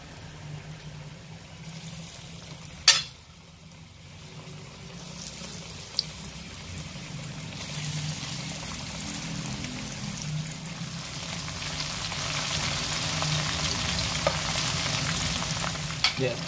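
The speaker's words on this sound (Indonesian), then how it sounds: "Ya, kita goreng dengan api sedang ya." Beef sizzling in hot cooking oil and white shortening over medium heat, a steady crackling fry that builds in intensity, with a sharp clunk early on and no talking.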